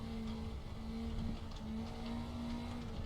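NSU TTS car in a racing video game sliding through a lift-off oversteer on track, a steady engine drone with a sustained whining tone running throughout, moderately loud and continuous with no talk.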